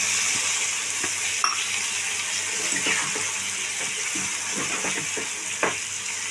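Water poured into a pan of frying mourala fish curry, a dense, loud sizzling hiss that carries on steadily, with occasional clinks from stirring.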